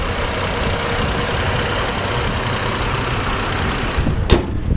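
A 2007 Chevrolet Trailblazer's 4.2 liter Vortec engine idles with a steady, even rumble heard close under the open hood, with one brief knock near the end.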